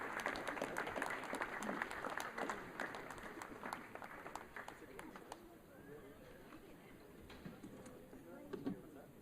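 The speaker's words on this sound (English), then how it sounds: "Let's give them a round of applause" An audience applauds at an audio-visual industry awards ceremony, a faint, distant wash of clapping that thins out over several seconds, with a voice faintly audible in the room.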